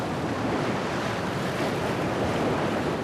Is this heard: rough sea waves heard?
yes